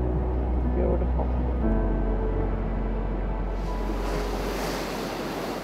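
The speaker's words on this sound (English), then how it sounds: "The waves." Ocean surf rolls and washes close by while strong wind buffets the microphone, a continuous roaring hiss with people talking faintly beneath it.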